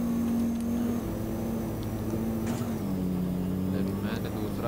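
A Toyota Fortuner's overheated engine strains in Euro Truck Simulator 2, a steady low droning hum with a wavering pitch that sits under continuous talk.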